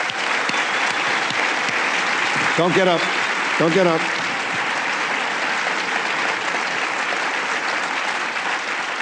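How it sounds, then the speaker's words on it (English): Sustained audience applause fills the room at an environmental award ceremony, steady and dense throughout, with someone briefly speaking over it near the middle. "a big round of applause"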